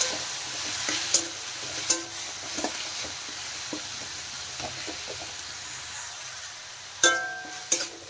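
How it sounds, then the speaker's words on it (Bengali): Ginger and onion paste masala frying in a pan, a steady soft sizzle with intermittent stirring clatters and a few sharp utensil knocks, no voices. "দিয়ে দিলাম আদা বাটা, পেঁয়াজ বাটা। ভালো করে মশলা একটু কষিয়ে নেব।"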